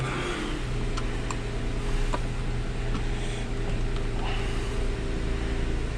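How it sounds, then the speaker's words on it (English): A car with power steering, raised for a wheel alignment, idles steadily with a low engine drone and a faint higher hum, close by and unbroken. No one speaks. "I'm going to start this one up."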